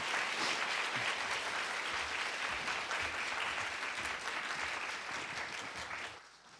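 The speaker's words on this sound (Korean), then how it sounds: "우리 청년들 나올 때 박수로 사랑의 마음으로 맞이해 주시면 감사하겠습니다." A church congregation applauds warmly in a large hall at an Easter Sunday service to welcome the youth group. The clapping is dense and sustained, then fades near the end.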